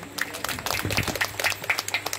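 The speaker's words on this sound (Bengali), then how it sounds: "আমি মিতা ম্যাডামের জন্য একটা হাততালি চাইব।" Applause from an audience at a Nazrul Jayanti celebration, dense broadband clapping sustained for a couple of seconds at moderate level with no clear speech over it.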